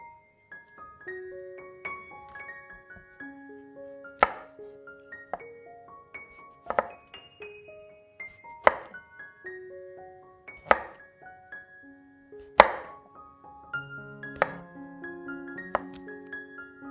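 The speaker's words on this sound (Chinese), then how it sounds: "切下香菇角，然后将香菇和香菇角切成丁状。" A kitchen knife dices shiitake mushrooms on a board, leaving a few sharp, isolated chopping thunks spaced a couple of seconds apart under soft background music.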